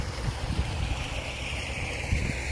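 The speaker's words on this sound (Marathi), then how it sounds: "इकडं बघा आपलं बारं पाणी चालू आहे पाटाने आता चाललं आहे आपलं धुळधुळ पाणी" Irrigation water running along a channel between onion-planting beds in a farm field, a steady broadband rush with soft low gurgles and some wind on the microphone, continuous and fairly close throughout.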